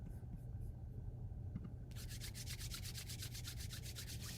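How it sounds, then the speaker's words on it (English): Palms rubbing together briskly during a somatic tapping meditation, a soft, steady, rhythmic swishing that speeds up into fast, even strokes, close and quiet over a low background hum. "Bringing the palms back together, and now rubbing a little more briskly."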